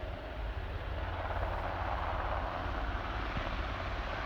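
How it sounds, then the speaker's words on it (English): A helicopter takes off at Aberdeen airport, heard as a steady, broad rumbling roar at moderate distance that holds constant throughout without speech. "that's the helicopter taking on into the sky"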